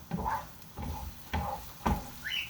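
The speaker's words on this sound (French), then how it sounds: "les oignons sont en train de revenir tranquillement" Onions sautéing in a pan as they soften, heard as a soft sizzle broken by four stirring scrapes at a steady rhythm, close up, with no talking.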